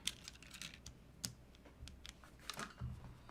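Quiet, close typing on a keyboard fitted with clacky tactile switches, a loose run of separate key clicks and clacks with small pauses between, no one talking.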